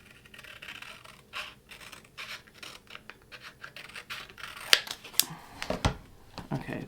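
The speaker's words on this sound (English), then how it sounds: "I'm gonna cut this again." Scissors snip through a piece of cardstock being cut into a stencil for a handmade junk journal, a few sharp close scratching cuts with brief pauses between them, quiet and alone.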